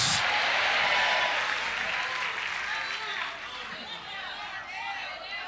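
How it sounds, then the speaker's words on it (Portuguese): Loud congregation applause fills a church service, a dense wash of clapping with cheering voices and chatter that slowly thins and softens toward the end. "Forte aplauso ao Senhor Jesus."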